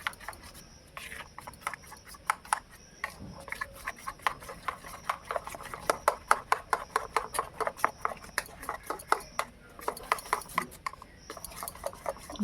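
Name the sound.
mixing curd, besan and semolina batter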